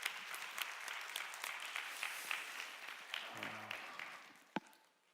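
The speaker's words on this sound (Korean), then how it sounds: "우리 서로 격려의 박수 한번 하겠습니다" A church congregation of young adults claps in encouragement, a sustained, fairly distant patter of many hands that fades near the end, with a brief low murmur partway through.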